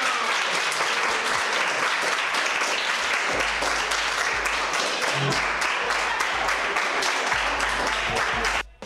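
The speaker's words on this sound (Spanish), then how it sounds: "¡Qué pedazo de aplauso se han dado entre ellos!" Dense applause from a crowd of young players clapping for one another at a fair-play match during a regional sports event in Antequera, loud and sustained throughout before cutting off at the end.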